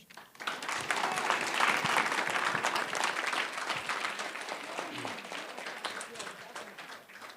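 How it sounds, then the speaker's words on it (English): Audience applause for a speaker during a livestreamed panel, a dense wash of many hands that rises quickly, holds for several seconds, then slowly fades, with a few faint voices mixed in. "It was so powerful that you had to get a double clap for all of that"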